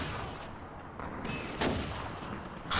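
MG42 machine gun fire in Call of Duty 2: a dense, sustained rattle of automatic shots, loud and continuous, with a sharper burst near the end.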